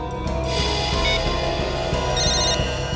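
A telephone rings after a number is redialed, a repeated electronic ringtone trilling steadily over a low background hum with no talking.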